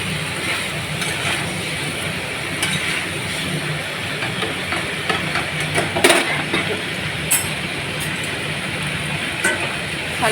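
Spice masala sautéing in hot oil: a steady, dense sizzle continues throughout, with occasional sharper scrapes and clinks from stirring standing out above the frying noise.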